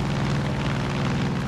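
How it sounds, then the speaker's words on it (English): Helicopter in Far Cry 5 during aerial combat: a loud, close, continuous rotor and engine roar with a dense low throb, steady throughout. "I see the chopper."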